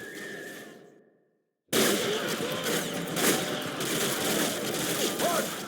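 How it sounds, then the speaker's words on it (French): Sustained gunfire from militia fighters in the 2009 shooter game Modern Warfare 2, a dense crackling barrage that bursts in loudly after a brief silence and keeps going close and continuous. "On se fait canarder par la milice."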